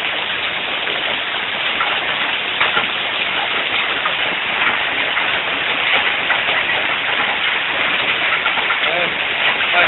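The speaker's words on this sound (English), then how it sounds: "some of the hail is still blowing." Steady rain with wind-blown hail during a hail storm in Shadyside, a continuous dense hiss at constant loudness with no distinct impacts standing out.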